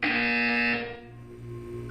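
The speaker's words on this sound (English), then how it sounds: "You will hear a buzzer. When you hear the buzzer, look up at the ceiling." A loud harsh buzzer sounds in the video game Portal 2, holding for under a second and then cutting off, leaving a low humming tone and background music.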